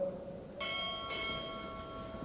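A ship's bell rings twice at a Navy chief petty officer pinning ceremony at Recruit Training Command, two bright metallic strikes about half a second apart, each with a long sustained ring.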